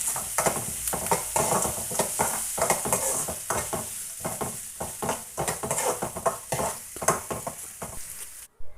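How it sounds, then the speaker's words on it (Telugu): Curry leaves, turmeric and garlic paste sauté with onions in a pan for a dried shrimp curry, producing a steady sizzle broken by repeated scraping stirs of a utensil against the pan, close and fairly loud. "దీంట్లోనే కరివేపాకు వేసుకోవాలి, పసుపు, వెల్లుల్లి పేస్టు ఇవన్నీ వేసుకొని మంచిగా మగ్గించుకోవాలి"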